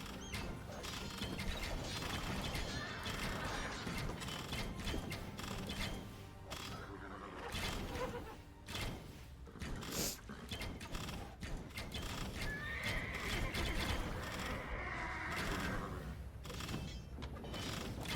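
Horses of mounted cavalry in a medieval strategy video game neigh and whinny repeatedly over clip-clopping hooves and clanking battle sounds, forming a busy, continuous melee soundscape.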